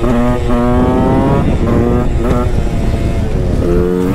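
A powerful motorcycle engine runs loud and close, a rough harmonic rumble with repeated throttle blips rising and falling in pitch over about four seconds.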